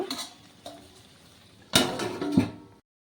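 A metal lid is set onto a cooking pot on the stove, giving a couple of close clanks and scrapes after quieter kitchen clatter, with no talking.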